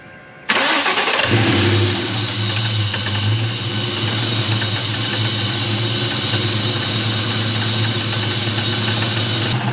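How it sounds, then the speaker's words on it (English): A 2004 SVT Cobra with an EGR delete cranks briefly, fires up loudly and settles into a steady, rumbling idle close by with no voices. "I'm gonna go ahead and start the car"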